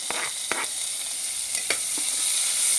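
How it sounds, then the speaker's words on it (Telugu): Two onions and two green chillies fry in hot oil with whole garam masala spices for a veg pulao, giving a close, continuous sizzle broken by several short stirring scrapes. "ఆయిల్ వేడెక్కిన తర్వాత హోల్ గరం వేసుకొని ఉల్లిపాయలు అండి, 2 ఉల్లిపాయలు"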